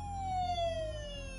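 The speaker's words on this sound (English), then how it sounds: "And then the siren goes off." In a farming video game, a siren wails with a slowly falling electronic pitch over a low rhythmic droning hum, loud and continuous throughout.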